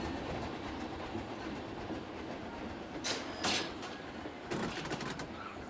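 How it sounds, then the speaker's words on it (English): Mine train rolling along its track in the Planet Coaster 2 video game, a steady rumbling clatter with a few brighter rattles, moderately distant in a busy park ambience. "It's the mine train."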